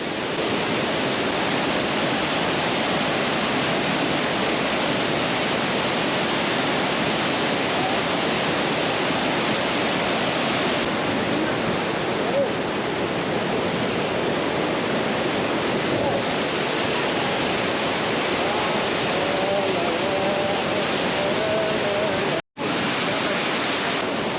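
A waterfall in Meghalaya, India, gives a constant loud roar of falling water heard up close, steady for the whole stretch apart from a brief dropout near the end.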